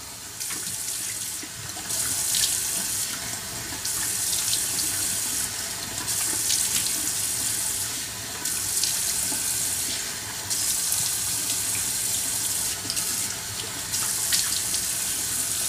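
A bathroom tap runs steadily while a chemical peel is rinsed off the face, the loud continuous stream broken by brief shifts and splashes as hands move under the flow.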